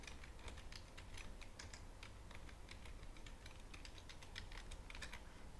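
Soft, rapid keystrokes tap on a computer keyboard as an email address and password are entered, a quiet irregular clatter of closely spaced clicks with no talking.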